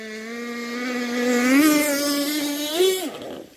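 A vintage nitro RC outboard motor runs loaded up and struggling at throttle, its loud, close, buzzing whine holding steady then bogging and rising briefly before cutting off near the end.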